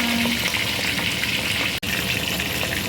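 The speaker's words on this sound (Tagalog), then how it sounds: "nagpiprito ko ng isda ang ating ulam" Oil sizzles and crackles steadily at close range as fish fries, a dense frying hiss that holds throughout, with one brief dropout and no voices.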